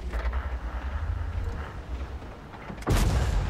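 A tank fires an HE shell in the video game World of Tanks, a sudden loud boom near the end that cuts through a steady low engine rumble.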